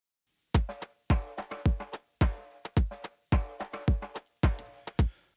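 A synth loop layered with an 808 bass drum on steady quarter notes, deep thumps driving a busy pulsing pattern of bright synth stabs, loud and close with no voices.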